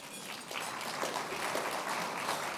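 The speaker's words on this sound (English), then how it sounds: "We'll never get through the list if you applaud for each one." An audience applauds a congressman being introduced at an evening event with diplomats and dignitaries, a brief burst of steady clapping from many hands that stays even and fairly distant.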